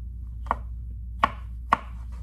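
Three sharp, separate knife strokes cut through salad ingredients for an orzo salad on a cutting board, close and clear over a low steady background hum, with no one talking.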